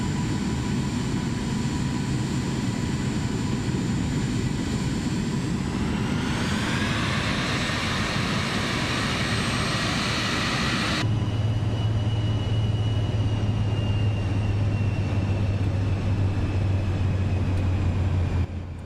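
Aircraft taxiing to general aviation parking in Microsoft Flight Simulator 2024, a steady engine drone with a whine rising partway through and a deeper hum later, continuous and close.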